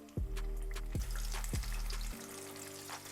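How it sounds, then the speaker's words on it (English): Oil sizzles and crackles steadily throughout as chicken and potato taquitos fry, with several low thumps in the first two seconds as they are set into the pan. "We start frying."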